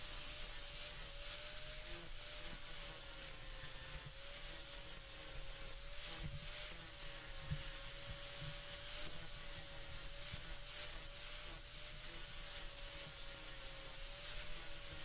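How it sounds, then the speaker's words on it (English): An oscillating sander with 80 grit paper works acrylic knife scales, a steady faint rasping hiss over a thin constant motor whine, running without a break and with no talk. "I just used a oscillating sander with a 80 grit paper first"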